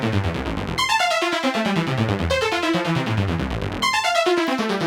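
A Future Retro 512 touch keyboard arpeggiator plays a scale flipped across the keyboard, bright synth notes stepping rapidly in repeating cascading runs with no pauses and no voices.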